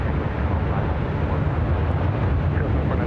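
An airliner takes its takeoff roll at LAX, bound for Munich, producing a loud, steady wash of jet engine roar with a deep rumble and no clear breaks.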